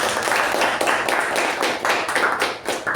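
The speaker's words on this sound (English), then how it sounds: "So can we have a good round of applause for Sai?" Hand claps ring out in a round of applause for a member at a Toastmasters club meeting: a steady, fairly close patter of clapping from a modest group across the three seconds.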